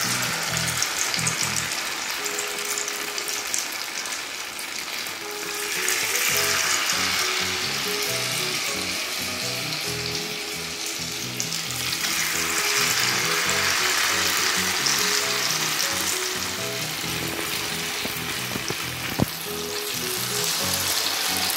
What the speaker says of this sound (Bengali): আমি এবার পটেটোগুলো এর মধ্যে দিয়ে তেলের মধ্যে ছেড়ে দেবো